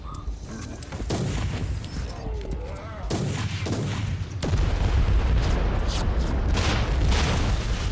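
A sniper rifle firing in Warhammer 40K: Inquisitor - Martyr, with heavy booming shots and rumbling blasts in a loud, continuous battle mix and no talking.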